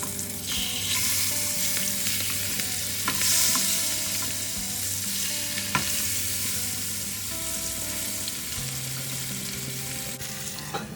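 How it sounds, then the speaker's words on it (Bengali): Hilsa fish frying in a pan gives a steady, loud sizzle and crackle for the whole stretch, with occasional clinks of a utensil stirring and no voices. "চলুন ঝটাপট ইলিশ মাছটা ভেজে তারপর না হয় ফিরে আসছি"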